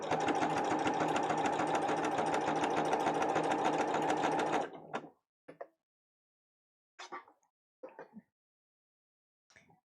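A sewing machine stitches fabric for a Maghda cosplay from Diablo, running loud and steady at close range for about four and a half seconds, then stopping. A few short, faint clicks and taps follow in near silence.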